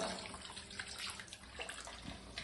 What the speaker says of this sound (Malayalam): ഇത് നമുക്ക് കുറച്ച് വെള്ളം ഒഴിച്ച് മിക്സ് ചെയ്തിട്ട്